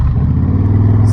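A Harley-Davidson Softail Fat Boy rumbles along on the road, its engine a loud, steady low drone mixed with wind, heard up close from the rider's position without talk.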